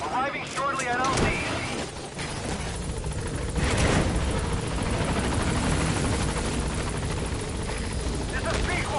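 The B-Quad helicopter arrives at a landing zone in Metal Gear Solid V, its steady rotor thump and engine roar loud and continuous throughout, with radio voices speaking over it.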